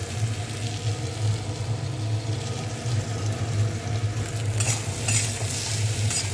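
Spices frying in a pan on a gas stove in a home kitchen, a steady continuous sizzle with stirring scrapes near the end, close and fairly loud without talk.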